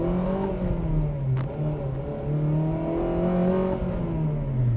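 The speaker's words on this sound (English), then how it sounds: "Already just pulling away from the side of the road, that Vtec crossover is a lot of fun." A Honda FD2 Civic Type R pulls away and accelerates through its VTEC crossover, the engine note rising and falling in tone as revs climb, heard steadily from close by.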